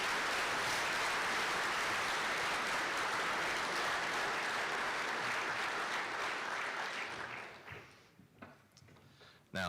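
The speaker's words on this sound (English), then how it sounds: "Let's have a big round of applause for all of our titanium level sponsors." Banquet crowd applauding sponsors, a dense, loud, sustained clapping from many hands that tapers off near the end, leaving a few scattered claps.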